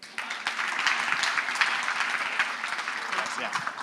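A crowd at a regional housing summit claps to welcome Mayor Nicholson of Gardner, a dense, continuous patter of many hands at moderate loudness.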